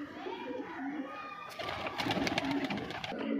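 Soft low coos from Punjabi Malwai pigeons repeat amid a fluttering, busy mix of birds, with a voice speaking over them partway through.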